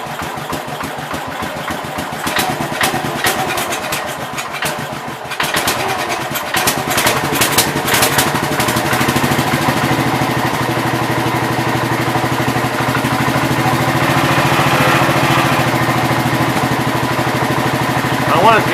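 A 1967 International 424 tractor engine runs close by, first at a lower, uneven idle, then raised to a faster, steady mechanical chugging that holds loud and continuous to the end.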